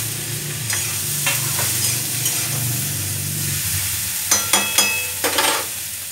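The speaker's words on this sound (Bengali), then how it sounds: "এবার একটু ভাজা ভাজা করে ঢেঁড়সটা ছেড়ে দিচ্ছি।" Okra sizzles in a pan with turmeric, chili and salt as it is stirred. The soft frying hiss is broken by scraping strokes and a quick run of spatula clinks near the end.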